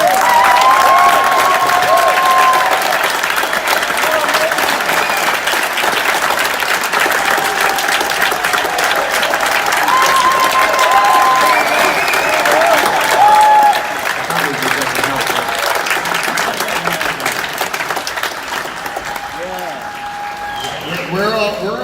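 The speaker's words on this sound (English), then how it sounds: "Hey guys, give Bob Lazar a" A large audience gives Bob Lazar sustained, loud applause with some cheering, the clapping dense and steady for most of the stretch before tapering off, with voices talking over it.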